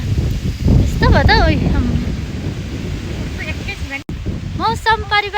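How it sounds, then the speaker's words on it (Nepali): Strong wind gusts outdoors around a rural village, rumbling loudly across the microphone while people talk over it. "आज त कस्तो हावा चल्ने रहेछ है"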